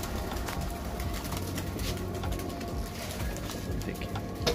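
Many pigeons coo together in a farmhouse loft, soft low cooing layered and continuous with scattered faint bird calls and some background noise.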